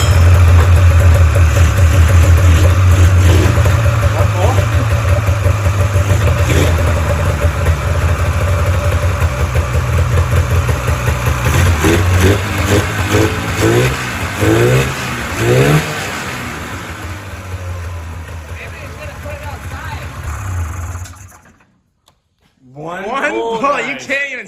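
A Polaris snowmobile engine fires up on choke and revs, loud and close, with a steady buzzing roar that rises and falls before cutting out near the end, then voices.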